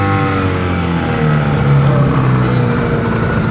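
A Mercury 110 9.8 HP two-stroke outboard motor on a 10-foot aluminum boat runs steadily close by, a buzzing drone whose pitch rises slightly mid-way and then settles.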